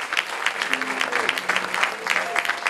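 Church audience applauding singing groups, steady dense clapping throughout with some tonal voices faintly underneath.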